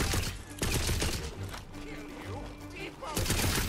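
Gunfire rattles in the video game Tiny Tina's Wonderlands, bursts of rapid shots in dense loud clusters with short gaps, a voice speaking Korean between them.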